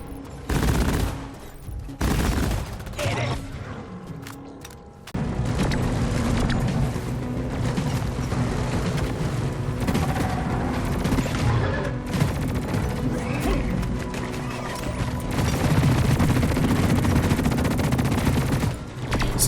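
Lok-1 smart rifle fire in the Deep Rock Galactic video game, with rapid bursts of gunshots in short volleys at first, then sustained heavy shooting mixed with impacts and mechanical clatter, loud and close.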